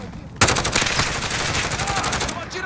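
Rapid automatic gunfire in Call of Duty: Modern Warfare during a Domination multiplayer match, a dense sustained burst of shots breaking in suddenly and continuing loudly for about two seconds.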